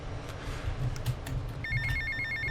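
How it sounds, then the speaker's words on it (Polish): A telephone rings in GTA Vice City, a bright repeating electronic trill that starts partway through and sits over a low in-game hum and background noise. "Jeszcze kolejny telefon dzwoni"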